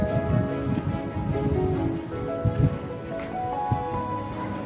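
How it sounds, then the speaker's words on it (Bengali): Steady, strong wind roars continuously outdoors at a monastery in Lava, Kalimpong, a broad rushing noise with occasional louder gusts. "দারুণ হাওয়া দিচ্ছে।"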